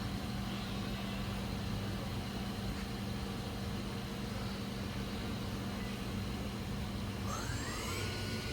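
A SMART SV2 CNC vertical machining center spindle spins at 3,000 RPM, a steady, even hum with a constant low drone held throughout and a faint rising whine near the end.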